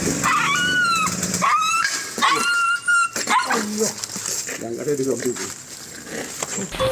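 A dog caught in the bars of a gate after trying to jump over it whimpers and yelps in high, wavering cries close by, with voices talking over the later part.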